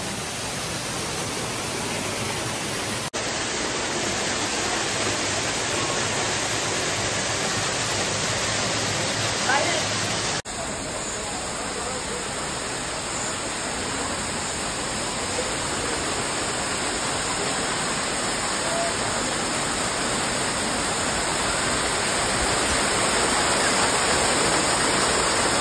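Waterfall at a cave garden in Cherrapunjee, Meghalaya, a loud unbroken rushing roar of falling water filling the whole span, with people talking faintly beneath it.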